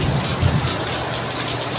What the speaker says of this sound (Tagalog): Ay guys, ang lakas ng ulan dito.